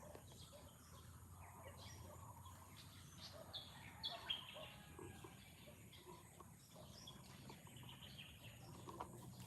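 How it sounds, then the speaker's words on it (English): Birds chirping outdoors in a quiet sanctuary-like spot: scattered faint tweets and calls over a soft, steady bed of insect and ambient noise, distant and low in level throughout. "Love the sound of birds here whenever we're here."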